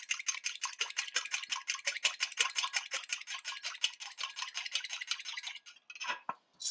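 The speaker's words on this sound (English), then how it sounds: "it's going to take 1 egg. And I'm going to beat that really good." One egg being beaten hard for a sweet bread glaze, a fork or whisk clicking rapidly and steadily against a bowl for several seconds, close and fairly loud, with no talking, stopping near the end.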